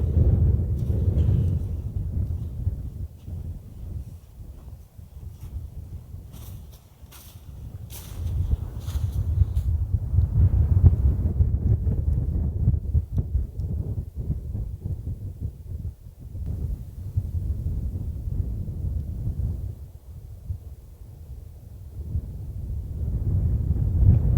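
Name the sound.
wind blowing outside a tent in snow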